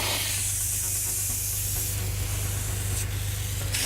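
Water sprays from a fire hose nozzle set to 60 GPM, sounding as a loud, continuous rushing hiss over a low steady rumble, with no pause.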